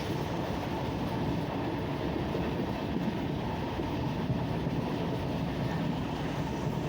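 The Trivandrum Central–Hazrat Nizamuddin Rajdhani Express running, heard from inside the coach as a steady, continuous rumble of wheels and carriage noise with no pauses.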